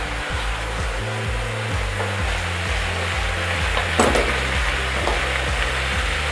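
Dock leaves wilting and cooking in a pan give a loud, continuous sizzle over a low steady hum, with a brief clatter near the middle.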